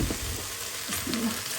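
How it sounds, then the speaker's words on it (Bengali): Vegetables softening and browning in a pan give a low, steady sizzle with faint stirring scrapes, quiet and continuous throughout. "সবজি একদম সফট হয়ে আসছে, একটু ভাজা ভাজা হয়ে মানে ভাজা ভাজা হয়ে আসছে।"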